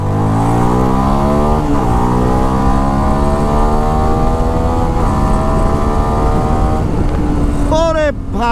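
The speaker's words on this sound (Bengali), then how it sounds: "যেমন রেডি পিক আপ, তেমন হচ্ছে ক্লাচ লাফ দিয়ে ওঠে প্রত্যেকটা গিয়ারে।" A CFMoto NK250 motorcycle engine revs and pulls hard while riding, its pitch climbing through each gear with quick shifts in between, loud and close, with wind rush beneath.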